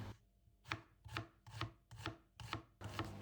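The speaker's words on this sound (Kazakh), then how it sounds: "Енді пиязымызды осындай тағамға, тамақтарға турағандай етіп турап аламыз." An onion is chopped with a knife on a board, six crisp, evenly spaced chops at a steady rhythm, heard close but quiet with no talk.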